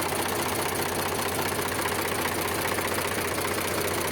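Steady idle of an Eicher tractor engine in good condition, a continuous knocking rumble, close and constant, with no talk.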